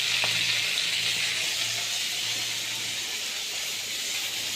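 Singi fish fries in a pan with a steady, close hiss and crackle of hot oil that continues without a break.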